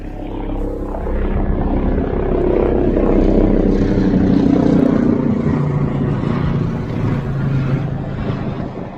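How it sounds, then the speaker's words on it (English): An air ambulance helicopter's rotor and engine drone passes overhead, a steady low rumble swelling and fading slightly across the recording. "Air ambulance."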